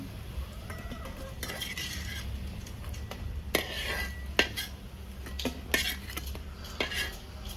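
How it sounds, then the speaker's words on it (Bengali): Pumpkin flower fritters fry in a pan with a soft background sizzle, broken by sharp clinks and scrapes of a utensil against the pan at irregular intervals. "বড়াটা ভাজা হয়ে গেল এবার বাকিগুলো এভাবে ভেজে নেব"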